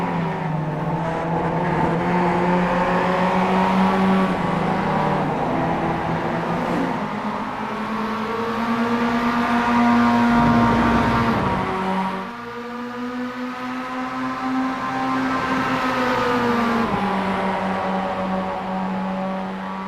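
Several race cars in iRacing thunder down the front straight of the Indy road course, layered engine tones rising and shifting together in a continuous loud roar.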